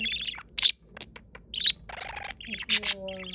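A pet budgie parakeet chirps and warbles close by in quick bright bursts, with short trilling phrases between a few spoken words.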